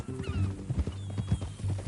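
Horse hooves clip-clopping at a walking pace in the video game Red Dead Redemption 2, steady close hoofbeats over a low rumbling game soundscape.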